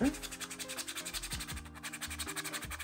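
A 3D-printed Star-Lord helmet being sanded by hand, close rhythmic back-and-forth rubbing strokes repeating about four times a second, with background music.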